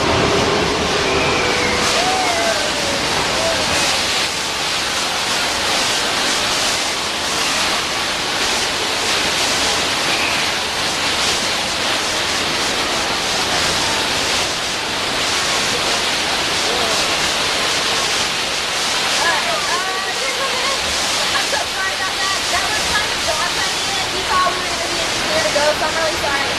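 Rushing flood water floods a staged set on the Universal Studios earthquake tour, a loud, continuous broadband roar of pouring and sloshing water that holds steady throughout, with faint voices beneath it.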